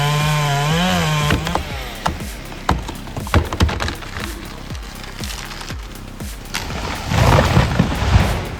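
A chainsaw cuts windblown timber, starting with the engine revving and its pitch rising, then moving into a rough series of loud, close cracks and thuds as the wood gives way, before a final burst of noisy cutting.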